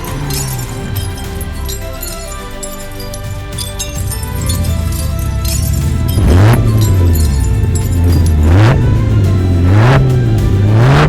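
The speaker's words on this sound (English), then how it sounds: "the Challenger keeps roaring" A Dodge Challenger muscle car engine revs hard, with deep rumbling idle building into several loud, rising and falling throttle blips in the second half, close and powerful, alone without talk.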